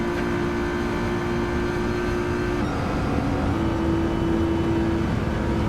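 Nissan GT-R R35 racing in Gran Turismo 7, engine droning loudly at steady high revs, pitch holding then shifting with a gear change, accompanied by constant road and wind noise and no talk.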